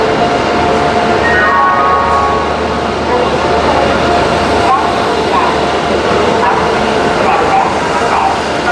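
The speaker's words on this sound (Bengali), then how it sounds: "আসানসোল থেকে আমাদের ট্রেন ছেড়ে দিল" The Himgiri Express, 12331 Howrah–Jammu Tawi, pulls out of Asansol Junction with a loud continuous rumble and clatter of wheels, rising whines and a dog barking faintly near the platform.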